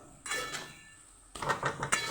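Kathiyawadi brinjal masala sizzles in oil in a pan as a spatula clinks and scrapes against the metal in two short bursts of stirring, fairly quiet, with no talk.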